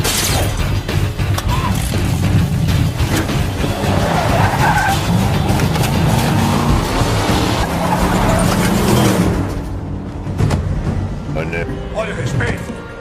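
A GT car pulls away with tires skidding, loud and close, its engine roaring under busy overlapping noise for about nine seconds before the sound drops away abruptly.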